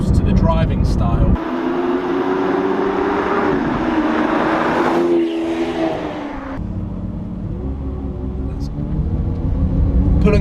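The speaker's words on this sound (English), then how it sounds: "Oh, I can hear that V12 slowly warming up." A Lamborghini Aventador SV's V12 drones and rumbles steadily from inside the cabin while driving, warming up, with the pitch shifting midway and someone talking over it.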